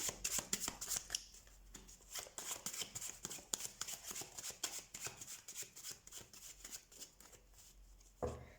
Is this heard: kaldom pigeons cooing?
no